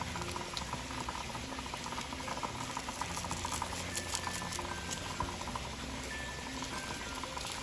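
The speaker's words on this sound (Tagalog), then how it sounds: "Ba, nakakulo na agad." A pot of water boils steadily, with continuous bubbling and soft popping at a constant level.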